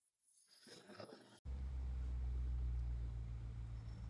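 A Ford F-150 engine coming down to idle during work on a transmission temperature circuit, a low, steady, close rumble that starts abruptly after some faint handling noise and holds even.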